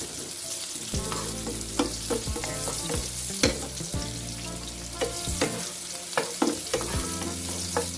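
Garlic and onion sauté in a pan for sweet and sour fish, a loud, close, continuous sizzle broken by repeated rhythmic stirring scrapes of a utensil against the pan.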